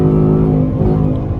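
A 2020 Ford Mustang GT with a 10-speed automatic drops a gear and pulls hard again, its V8 a loud, steady, close-up engine drone with a low rumble that holds and rises slightly over the short stretch.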